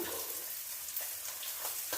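Mustard seeds and curry leaves frying in hot oil for a fish curry: a steady, faint close-up sizzle with small crackling pops and no talking.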